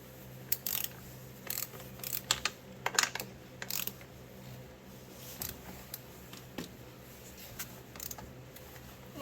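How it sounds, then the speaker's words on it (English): Ratchet clicking in short bursts while an axle bolt is loosened in a garage, with quiet pauses between the bursts and no talk. "loosen the axle bolt here."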